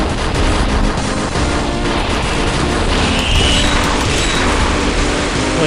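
A special beam cannon fires in a Windows XP shoot 'em up game: a loud, sustained barrage of booming explosions and rapid gunfire-like blasts, dense and unbroken for several seconds.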